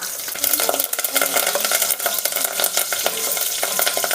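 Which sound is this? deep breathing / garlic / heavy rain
garlic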